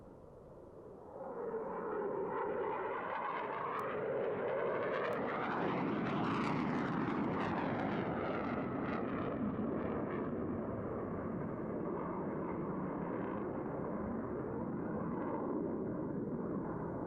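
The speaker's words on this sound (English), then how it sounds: "watch as both pilots sustain 6 times the force of gravity to cross their aircraft over show center." Two aerobatic propeller aircraft cross over show center at the Reno airshow, their engines building to a loud, sustained roar with sweeping pitch shifts as they pass close by. No one speaks.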